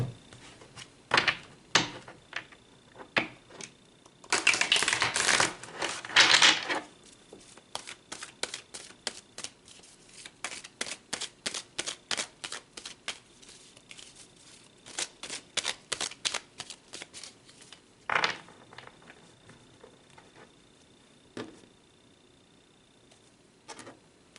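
Tarot cards shuffled and pulled from a deck, with quick bursts of riffling and many crisp card snaps and slides in an irregular rhythm. The sounds are close and fairly quiet against a silent background, with no talk.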